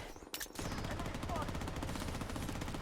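Rapid automatic gunfire in the Blood Strike shooter game, a steady rattling stream of shots running without pause after a brief burst at the start, with a player's voice talking over it.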